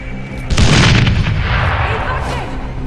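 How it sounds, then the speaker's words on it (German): A loud booming explosion in the video game Dead Island Riptide bursts in after a brief quiet moment, followed by a long rumbling, crackling decay. "Explodiert aber ziemlich spät."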